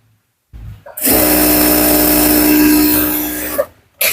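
Sewing machine running a seam on a half-sleeve shirt, a loud steady whirring motor burst lasting about three seconds, starting and stopping abruptly, close up and alone.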